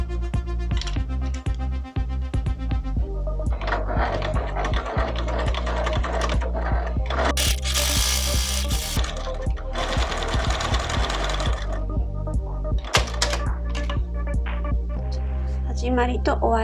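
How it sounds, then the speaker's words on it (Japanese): A sewing machine fitted with a non-stick presser foot stitches a fabric baby bib, running in close, steady bursts with a continuous mechanical hum and brief pauses between runs. "それでは縫い始めていきます。"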